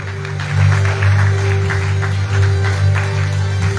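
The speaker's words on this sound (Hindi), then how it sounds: "Give a big hand for Arush" An audience at a children's talent hunt grand final in a Faridabad hospital applauding a young singer, steady sustained clapping from a crowd alongside a low hum, with no clear speech.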